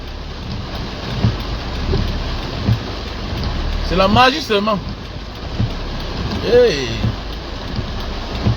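Rain falls in a steady broadband hiss outdoors, with soft patters throughout, while someone speaks and calls out over it in two short bursts.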